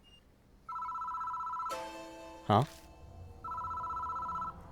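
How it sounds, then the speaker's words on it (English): A telephone rings in the horror game Spirit Hunter: Death Mark, two clear electronic ring bursts separated by a short pause, with a brief startled voice and a sharp sound effect between them. "The phone starts ringing out of nowhere."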